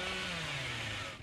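A chainsaw in the video game Dead by Daylight runs at a steady, buzzing drone, even and unbroken before trailing off briefly at the end.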